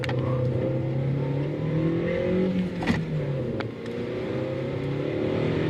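A car's engine hums and shifts steadily from inside the cabin during a brake test, with a brief knock partway through and no talking.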